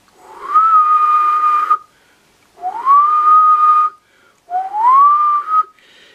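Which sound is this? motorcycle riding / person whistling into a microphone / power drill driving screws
person whistling into a microphone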